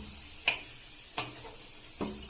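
Cinnamon and cardamom frying in hot oil give a soft continuous sizzle, with three sharp clicks of a utensil stirring the pan, spaced apart.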